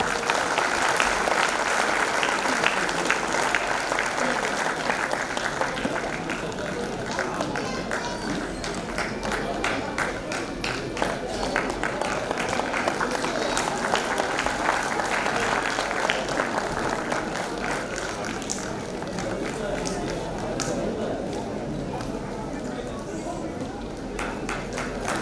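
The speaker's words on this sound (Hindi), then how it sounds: "जोरदार तालियां प्लीज" An audience at a school prize ceremony applauds a winner, dense clapping that runs steadily for a long stretch and slowly thins, with voices talking over it.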